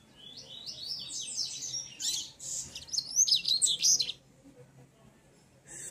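A songbird sings a lively, warbling song of quick high chirps and trills, close and clear, with brief pauses between phrases.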